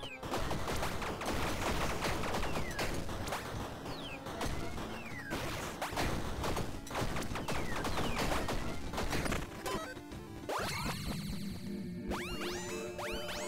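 Gunfire crackles in the video game Tiny Rogues, fast repeated shots with bright impact clicks layered over game music, steady for most of the stretch before thinning into chimes near the end.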